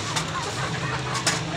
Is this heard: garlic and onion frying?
no